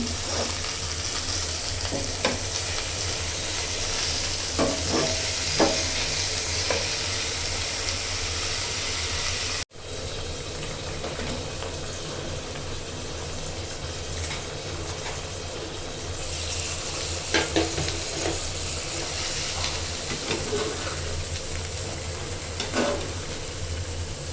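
Potatoes sizzle steadily in a pan, being sautéed ahead of an eggplant curry, with occasional stirring scrapes over a constant frying hiss and a brief break midway; no one speaks.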